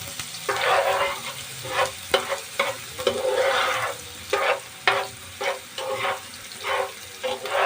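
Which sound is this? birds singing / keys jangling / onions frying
onions frying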